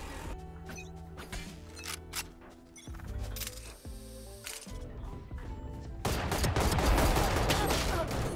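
Gunfire from a first-person shooter video game crackles in quick bursts and single shots over game sounds, building into a denser, louder volley toward the end.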